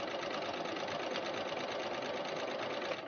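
Cover stitch sewing machine running steadily while chaining off, a continuous fast mechanical whir with rapid needle rhythm, close and fairly loud throughout.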